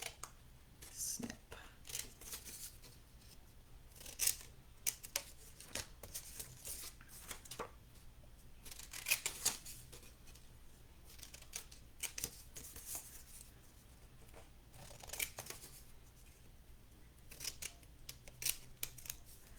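Scissors snip the small corners off a folded paper caddy for holding treats, giving repeated crisp cuts in short bursts at close range over a low steady background hum.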